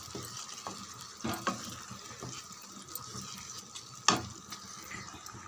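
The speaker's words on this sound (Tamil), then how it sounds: "சின்னதாக ஒரு டம்ளரில் தண்ணி விட்டால் போதும்" Water poured from a small tumbler into simmering potato and green pea gravy, giving a faint, quiet sizzle with a few soft splashes and stirring knocks.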